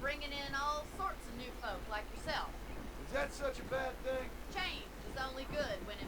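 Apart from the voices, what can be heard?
No everyday noise stands out behind the speech.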